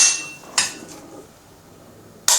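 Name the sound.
AR-15 ELF Apex Pro trigger being pulled, dry fire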